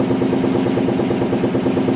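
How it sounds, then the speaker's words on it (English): Air compressor running steadily in a machine shop beside a 1998 Daewoo DMV-400 CNC vertical mill, a loud continuous pulsing drone with no pauses or voices. "I apologize about the compressor."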